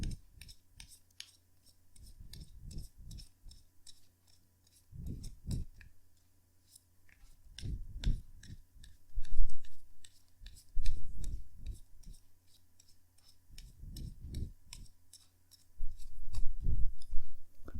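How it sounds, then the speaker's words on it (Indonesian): Tarot cards are shuffled by hand in repeated soft bursts of close riffling and clicking, with short pauses between shuffles over a quiet background hum. "kartunya dikocok dulu sebelum kita mulai"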